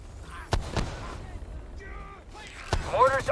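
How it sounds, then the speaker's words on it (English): Mortar fire in the video game The Division 2, with two sharp thumps early on and another heavy blast later, mixed with game chatter and radio voices. "Mortars on this location"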